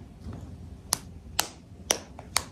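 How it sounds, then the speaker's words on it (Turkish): A few sharp hand claps in a home setting, four distinct crisp strikes spaced roughly half a second apart over quiet room background, close and clear. "Ama sen şu anda alkış yapıyorsun."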